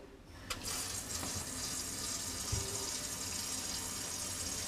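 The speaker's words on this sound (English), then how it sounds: "the water on again." Tap water runs steadily into a kitchen sink fitted with an InSinkErator Badger 500 garbage disposal, a broad continuous hiss that starts just after a brief knock and holds close and even throughout, with no talking.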